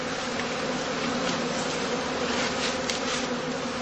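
Bees in a weak colony hum in a dense, steady swarm around an open straw skep hive. The buzz is continuous and close, with no voices.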